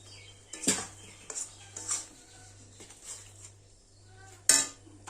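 A metal lid lifts off a pan of sweet-sour mango chutney cooking with jaggery, giving a few sharp clanks and clinks of cookware, the loudest near the end, over a low steady hum with quiet gaps between.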